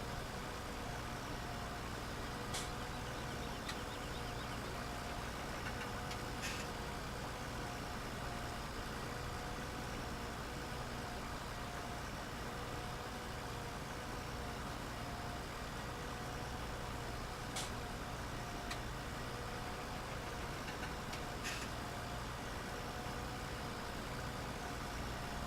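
A small tractor engine in the video game Farming Simulator 17 runs in a continuous, steady mid-to-low drone, faint and unchanging, with occasional light clicks and no speech.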